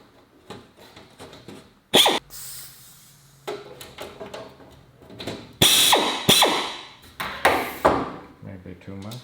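A coilover collar on a Series 3 Land Rover Santana being adjusted: sharp metallic ratcheting clicks and scraping mechanical sounds in several short bursts, close up.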